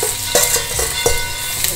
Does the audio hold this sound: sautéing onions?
yes